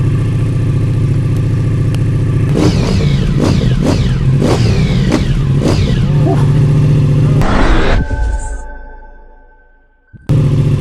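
A motorcycle fitted with an aftermarket exhaust revs hard several times, giving a loud, deep, raspy roar with rising and falling pulls, then settles into idle and cuts off abruptly near the end.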